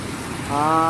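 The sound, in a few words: heavy rain while walking along a highway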